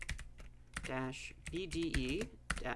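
Typing on a computer keyboard, with rapid clusters of key clicks between bursts of someone talking close by.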